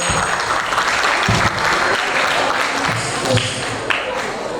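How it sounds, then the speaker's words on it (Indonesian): Audience applause at an alumni sharing session for someone who asked a question: sustained clapping from a roomful of listeners, close and fairly loud, with a few sharper individual claps standing out near the end. "tepuk tangan dong buat yang nanya ya"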